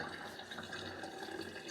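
Running water splashes steadily at a kitchen sink while hair is rinsed and wetted, a continuous close hiss and patter with no talking.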